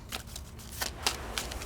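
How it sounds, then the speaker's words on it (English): Infection cards for the Pandemic Legacy Season 2 board game being shuffled by hand, a quick series of soft riffling rasps and flicks close by, with no talk. "Shuffle the infection cards."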